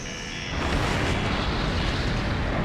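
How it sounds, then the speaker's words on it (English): A massive railgun-triggered secondary explosion in the combat flight game Ace Combat Infinity, a sustained roaring boom that swells after half a second and rumbles on loudly to the end with no speech. "the railgun blast disseminates flammable gas into the atmosphere, triggering a large secondary explosion"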